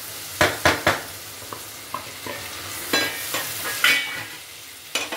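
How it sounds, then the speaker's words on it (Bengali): Browned onions frying in a pan for a spicy mutton kosha, a steady sizzle broken by sharp scraping strokes of a spatula against the pan, several quick stirs in bursts, close and fairly loud. "পেঁয়াজটা ভাজা হয়ে গেছে, বাদামি রং হয়ে গেছে"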